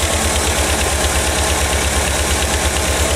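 A 1985 VW Vanagon engine idles steadily with a rhythmic low chugging throb and mechanical vibration, loud and close, with no talking.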